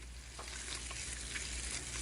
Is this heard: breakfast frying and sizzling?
yes